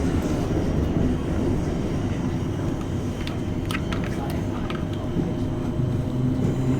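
A Greater Anglia Class 321 electric train, an eight-carriage formation, runs steadily with a continuous low rumble and rolling rail noise, with brief higher squeals and clicks midway and a faint voice now and then.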